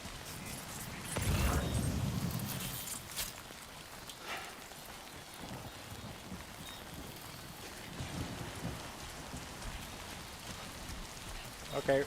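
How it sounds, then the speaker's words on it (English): Steady rain falls in the video game Death Stranding 2, a soft continuous hiss across the whole stretch, with a louder gusty swell near the start and a few faint bumps and game sounds beneath it. "The rain sounds so goddamn calming."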